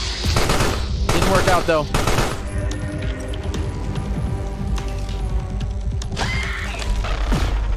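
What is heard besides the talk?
sentry gun firing in the video game Carrion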